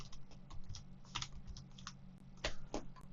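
Quick bursts of typing on a computer keyboard, clustered clicks close and fairly loud, with heavier strokes near the end and no talking.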